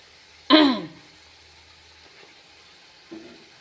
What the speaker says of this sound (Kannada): ಅಂಥದ್ರಾಗ ಒಂದು ಕೆಮ್ಮು ಬರ್ತದೆ ನನಗೆ